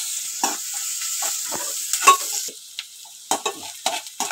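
Onions fry in a pan, with a soft sizzle under repeated scraping strokes of a utensil stirring them, irregular clinks and scrapes standing out against the quieter frying.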